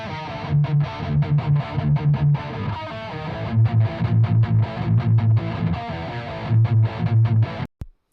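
A heavily distorted electric guitar, recorded through a ribbon microphone, plays a chugging, rhythmic metal riff with short gaps between phrases, loud and close, ending abruptly with a click.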